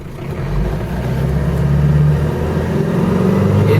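Peugeot 504D diesel station wagon engine running, a loud, close low-pitched diesel drone with a steady throb that rises slightly in the middle, heard alone.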